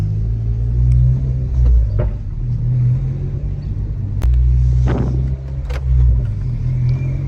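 A 2022-or-later Honda Civic Si with a PRL rear engine mount drives over a bumpy road, its engine a steady low rumble that swells and dips as gears change, with faint clicks and knocks from the cabin.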